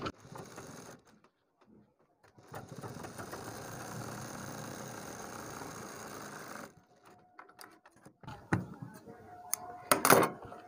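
A sewing machine stitches a strip onto a neckline design, running steadily for several seconds after a quieter start, then stopping into scattered handling noises.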